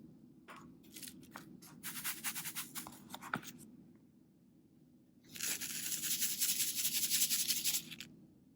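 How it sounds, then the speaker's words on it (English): Fine sand poured onto a paper plate and then shaken, giving two bursts of dry gritty hissing and scraping, the second louder and more continuous, with a quiet gap between. "I'm going to pour the sand onto the paper plate and shake it gently"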